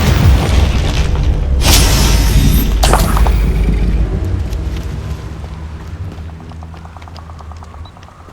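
A Confringo spell explosion in the Hogwarts Legacy video game, a loud booming blast with sharp shattering bursts that fade into a rumbling tail and lighter mechanical clicks.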